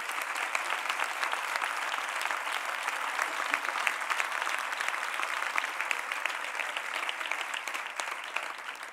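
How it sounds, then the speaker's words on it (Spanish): An audience applauds at a political rally in Seville, dense and continuous clapping heard from a slight distance and holding steady for several seconds with no one speaking. "Un aplauso para ellos y ellas."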